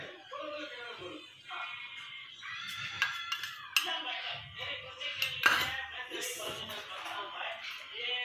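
Spices such as black salt and garam masala being mixed into a yogurt and cheese kebab mixture in a bowl, with metallic clinks and scrapes of a spoon. Scattered pings ring out over a soft, close background.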